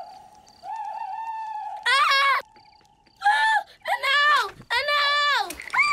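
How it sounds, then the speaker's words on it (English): A cartoon owl calls at night at a summer camp: a long, steady hooting tone, then several wavering, wailing calls, with voices mixed in between. "I think it was an owl, Denzel."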